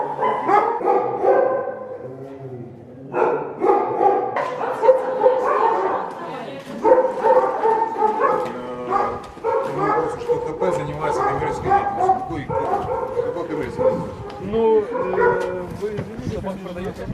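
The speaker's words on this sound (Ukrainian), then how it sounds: "7 собак" Seven dogs bark and yip repeatedly, close by and loud, with some whimpering, while people talk over the commotion, in Kyiv.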